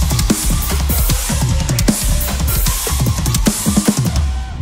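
Drum kit groove from a drum solo, driving kick and toms under crashing cymbals, loud and busy with steady rhythmic hits throughout, no voices.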